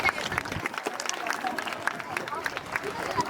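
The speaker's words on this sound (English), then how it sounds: "Let's all give her a huge round of applause." Applause at a school elocution event for the principal, Ms. Rohini Pradhan, fairly loud sustained clapping with crowd murmur and voices mixed in.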